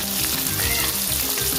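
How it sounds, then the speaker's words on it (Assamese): Fresh snakehead fish fries in hot oil, a loud, close, continuous sizzle and crackle with no voices over it. "তেল ভাজি আহিছে মাছৰ।"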